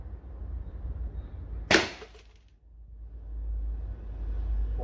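A single sharp shot from a SlugMaker HDR50 air gun firing a 6 mm star slug, one loud crack over a steady low outdoor rumble, then quiet.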